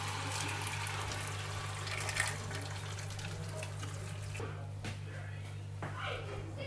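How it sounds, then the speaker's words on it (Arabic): Water poured into the sides of a frying pan during cooking of a Moroccan boramach dish, a soft steady splashing and hiss over a low electrical hum, fairly quiet and continuous with a few faint knocks. "I'm going to add some water"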